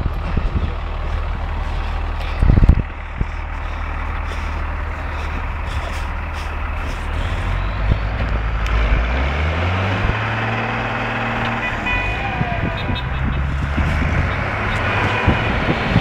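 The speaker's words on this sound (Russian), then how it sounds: "Сейчас будем тянуть вот эту машинку." A KamAZ truck tows a car through snow in Kyiv, its heavy diesel engine rumbling steadily close by, with a sharp clunk early on and rising, shifting engine tones as it pulls under load.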